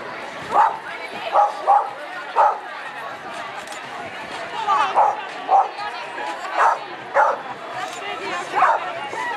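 Several sharp dog barks and yips repeat at irregular intervals over a continuous murmur of voices, fairly close by, at an anime convention.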